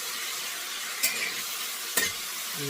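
A pot of chili cooks with a soft, steady sizzle and simmer, broken by two short stirring scrapes or clinks, with no voices.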